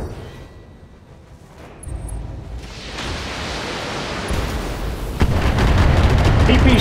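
PPC blasts and missile fire from BattleTech mech combat, starting quiet, then a sharp crack and building roaring bursts that swell into loud, noisy explosive impacts.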